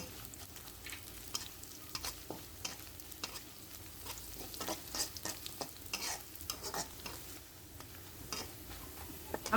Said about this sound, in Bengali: 10-12টা শুকনো মরিচ দিয়ে দিলাম।